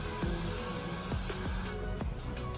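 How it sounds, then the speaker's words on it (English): Hairspray sprayed in thin layers onto lace: a steady, fairly loud aerosol hiss running through the clip with a few brief knocks, no voices. "So I'm just going to spray thin layers across the lace."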